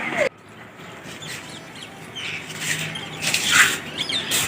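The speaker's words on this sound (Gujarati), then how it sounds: "અત્યારે સવારમાં જ ચારેકોર પક્ષીઓનો કલરવ જોવા મળી રહ્યો છે." Birds chirp and call in the open on a cold morning, scattered bright calls over a low outdoor hum, growing busier toward the end with a cluster of sharp, close notes.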